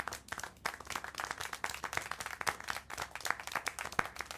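Applause in the video game Syberia: The World Before, a scattered run of individual hand claps at moderate volume, steady and uneven in rhythm across the whole stretch, with no talk over it.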